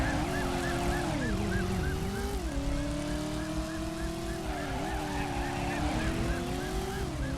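A police car siren wails in a steady rising-and-falling cycle during a chase in the driving video game Driver, loud over the roar of car engines.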